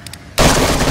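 Gunfire in the video game DayZ near an airfield bursts in abruptly after near silence, a loud, harsh, sustained blast of noise that fills the rest of the moment.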